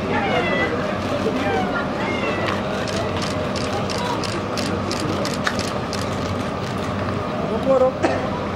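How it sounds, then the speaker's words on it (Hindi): Cats meowing outdoors at a film studio, several short high mews rising over a noisy crowd with people talking and mechanical clicking throughout. "आधी बिल्ली है तेरे पीछे, आधी बिल्ली के साथ"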